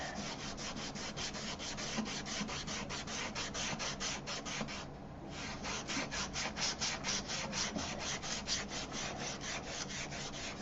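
Sandpaper dragging across wood in steady, evenly spaced back-and-forth strokes, a close gritty rasp repeated about four times a second with one brief pause midway, no voices.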